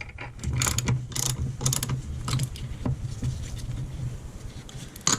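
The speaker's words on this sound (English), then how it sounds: "17mm, need a longer socket, so I'll break them loose, break this one loose." Ratchet with a 17mm socket breaking front suspension bolts loose on an Acura Integra, heard up close as irregular clicking and rasping pawl bursts over a low steady hum.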